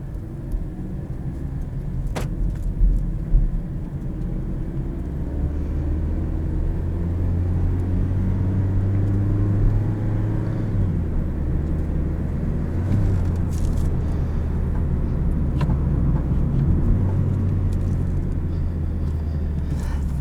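A 2017 Toyota Yaris iA driving on a road in sport mode, a steady low engine drone with shifting pitch as it accelerates, plus a few faint clicks.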